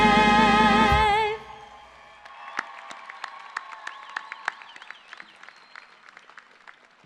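Applause from an audience at a university commencement ceremony fades in right after a loud sung anthem ends, then settles into scattered, distant hand claps.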